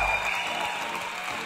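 Applause from a small group at a radio quiz event, a steady moderate patter of clapping throughout with a faint tonal hum underneath.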